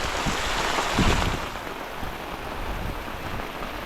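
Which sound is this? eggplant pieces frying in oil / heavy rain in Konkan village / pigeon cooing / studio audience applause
heavy rain in Konkan village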